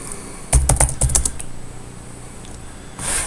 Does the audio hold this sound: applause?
no